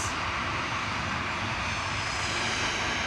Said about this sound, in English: Ryanair 558 from Dublin, just arriving in the background here at IGF and Max 8